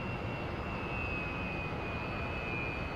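A Su-27 jet engine in the DCS flight simulator drones steadily in cockpit view, a broad continuous roar with a thin high whine running through it, loud and unchanging, with no talking.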